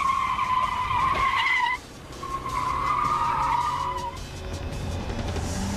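A car is bumped in the rear bumper and spins, its tires skidding in two long, loud screeching squeals split by a short break, with engine noise underneath.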